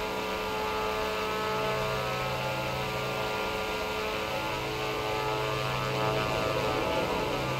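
A Diamond DA-62 twin propeller aircraft in X-Plane 11 drones steadily and evenly with a dense, tonal engine and propeller hum throughout, no voices.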